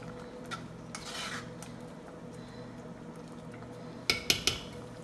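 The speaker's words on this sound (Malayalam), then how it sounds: "അപ്പോൾ ഇതിലേക്ക് ഞാൻ കുറച്ച് കറിവേപ്പില കൂടെ ചേർത്ത് കൊടുക്കുകയാണ്." A spoon stirring curry leaves into a pot of raw mango and drumstick avial, with faint scraping and a few sharp metallic clinks of utensil on pot near the end, quiet and close.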